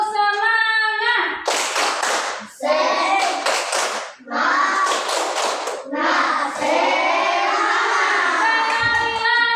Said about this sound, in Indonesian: mari kita sama-sama tepuk semangat dulu. Ayo, tepuk semangat